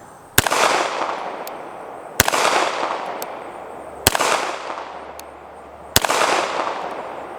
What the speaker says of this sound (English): Let's go for the 8-inch gong that's to its right.